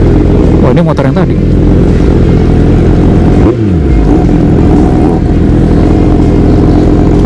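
A Kawasaki ZX25R motorcycle revs loudly up close. The steady, dense engine drone breaks into a sharp rev change partway through and stays strong and continuous throughout.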